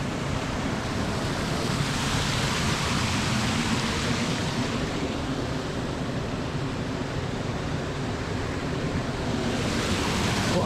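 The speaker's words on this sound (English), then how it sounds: "What a cool little waterfall" A small waterfall gushes through crumbling cement beneath cast iron pieces in Scotland. It makes a loud, steady, close rush of water that holds unbroken throughout, with no voices.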